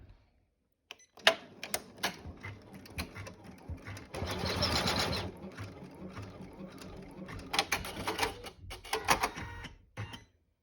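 An embroidery machine stitches out a tab-style two-slot credit card holder with an eyelet, running in rapid mechanical bursts with brief pauses and a denser stretch in the middle, close and clear with no talking.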